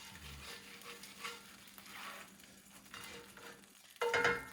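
Butter melting into hot oil in a pan for pork tonkatsu, a soft continuous sizzle stirred around, swelling into a louder crackle near the end.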